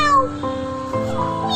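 A kitten meowing in a long, wavering cry, close and fairly loud, followed by softer drawn-out mews.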